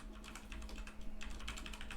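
A computer keyboard clatters in a quick, continuous burst of close key presses as code is written, with no talking.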